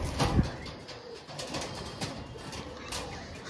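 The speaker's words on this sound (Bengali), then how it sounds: "জাস্ট পায়রার কোয়ালিটি আপনারা দেখুন" Domestic pigeons, a pair of show birds, coo softly and close by in a bird dealer's setting, a few low rolling coos over a quiet background with faint shuffling.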